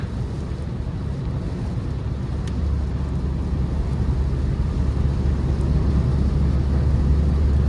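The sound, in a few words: 2017 Chevrolet Cruze 1.4T sedan driving, interior noise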